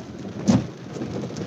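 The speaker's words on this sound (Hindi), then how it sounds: "बारिश हो रही है," Steady rain hisses across the clip with a brief low thump near the start, no voices heard.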